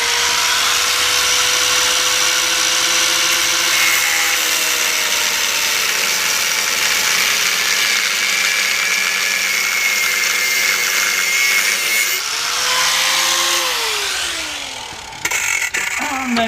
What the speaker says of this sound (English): So it's going to be angle grinder time. Cut this off.